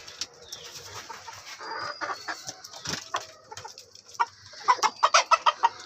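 Chickens in a farm coop cluck at dawn on a winter morning, scattered soft calls near and far building to a quick run of loud rhythmic clucks toward the end, with no talking.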